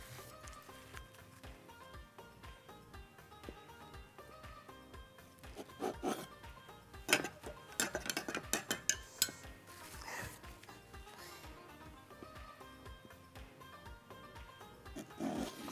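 A knife cuts through vanilla gateau layered with cream, giving faint, soft rubbing and scraping strokes with a cluster of sharper scrapes and clicks midway, quiet and close.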